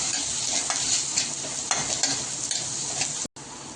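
Ground spices, garam masala and asafoetida fry in a hot pan with a loud, continuous sizzle and crackle, broken by one brief silent gap near the end, with no talk.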